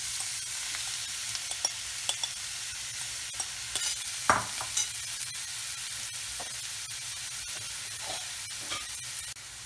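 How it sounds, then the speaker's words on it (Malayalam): Grated beetroot with shallots, green chillies and curry leaves being stirred in a pan for Kerala-style thoran, with a soft continuous sizzle under scattered scraping clicks and one louder knock of the spoon midway. "എല്ലാം നന്നായി ഒന്ന് മിക്സ് ചെയ്യാം"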